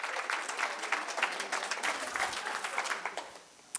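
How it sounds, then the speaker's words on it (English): Indoor audience applause for veteran educators at a conference, a dense patter of many hands clapping steadily for a few seconds before fading out. "Can we clap it up for some veteran educators in the room?"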